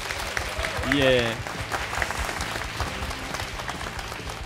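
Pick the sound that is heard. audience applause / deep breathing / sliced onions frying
audience applause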